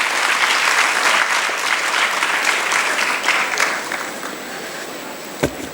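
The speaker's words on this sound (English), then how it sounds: "Please join me in giving a huge round of applause" An audience at a professional knowledge session on GST and indirect tax claps in a dense, sustained round of applause that fades gradually toward the end, with one sharp knock near the close.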